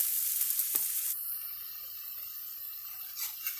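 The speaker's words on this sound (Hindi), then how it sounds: "इसमें हम डालेंगे पिसी हुई प्याज। अब इस मसाले को हम 1 से 2 मिनट के लिए पका लेंगे" Ground onion masala frying in a pan, a fairly quiet, steady sizzle with one brief knock near the start, no talking.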